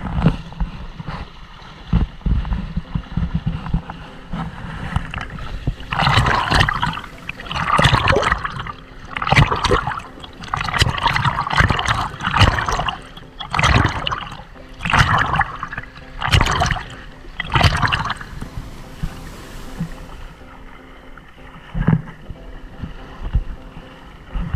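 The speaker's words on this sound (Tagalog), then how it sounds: "Ang lakas ng alon, ang lamig." Powerful sea waves crash and surge in repeated bursts on the shore at Al Khobar, Saudi Arabia, loud and close, with churning water rushing between breakers.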